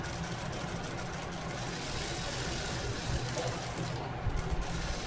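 Sewing machine stitching piping onto the neckline of a blouse front piece, a steady low mechanical whir running continuously at moderate level with no talk.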